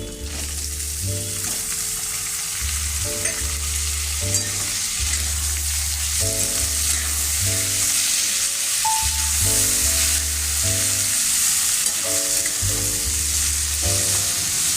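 Chopped tomatoes fry in a pan for chole, giving a continuous, even sizzle and hiss under prominent background music, with no talking.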